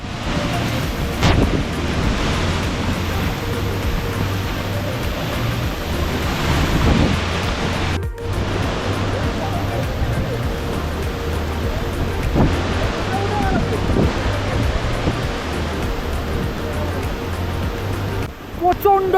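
Changey Falls in North Bengal, swollen with heavy monsoon flow, gives a steady, loud broadband roar of rushing, crashing water that holds unbroken for the whole stretch, with only a brief dip partway through.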